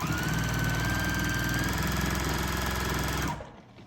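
A domestic sewing machine running steadily during free motion quilting, a loud continuous mechanical hum with rapid stitching rhythm that stops abruptly near the end.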